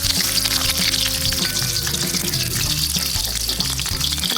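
Green chilies spit and crackle in hot oil for a Telugu murmura snack, a busy, close sizzle with a low hum running underneath and no talk.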